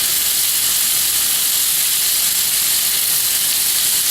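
Ground meat browning in a pan, a loud, dense and constant sizzling hiss heard up close, steady from start to finish with no pauses and no talking.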